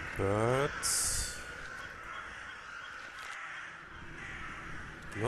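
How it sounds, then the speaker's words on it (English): Crows caw in the video game The Last Door, with a few harsh, loud calls at the start followed by a quieter, hazy ambient stretch and no clear speech. "That's birds."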